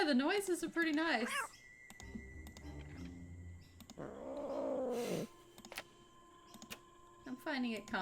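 Meows and a purr-like rumble from Suki, a cat in the Nancy Drew game The Deadly Device, come in short bursts between stretches of talking, with one louder drawn-out yowl in the middle.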